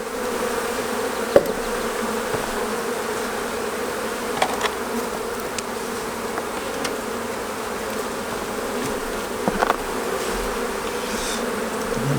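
Steady buzzing of many honeybees close by at an open hive during inspection, a dense continuous hum with occasional faint clicks and taps.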